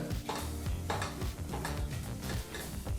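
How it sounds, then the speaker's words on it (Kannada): Spice powders, including turmeric, are stirred together in a pan for a gravy, giving repeated close scraping strokes of a spoon against metal over a steady soft sizzle, with no talking. "ಈ ಪುಡಿಗಳೆಲ್ಲ ಚೆನ್ನಾಗಿ ಬೆರೆಯೋ ಹಾಗೆ ಮಿಕ್ಸ್ ಮಾಡಿಕೊಂಡ್ರೆ ಸಾಕಾಗುತ್ತೆ"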